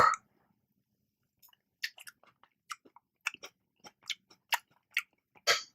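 Someone bites and chews a low-calorie snack seasoned with salt and chili flakes, making scattered soft crunches and moist chewing clicks, close and fairly quiet, with silent gaps between them.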